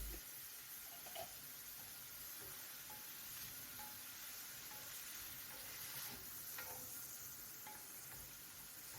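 Chicken and broccoli stir fry sizzles steadily in a pan, a continuous low frying hiss with faint stirring clinks scattered through, moderately quiet and without talk.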